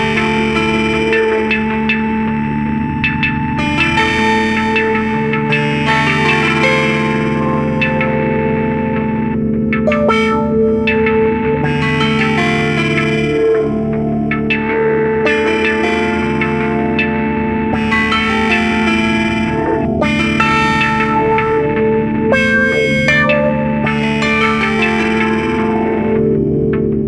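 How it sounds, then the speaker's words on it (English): An electric harp played through a Drolo Kiwami pedal, an expression pedal sweeping its filter so the tone opens and closes; sustained, layered plucked notes with a steady loud level and shifting brightness, alone without talk. "I'm going to plug my harp into Kiwami and use an expression pedal, which will make the filtering feel more obvious in some spots"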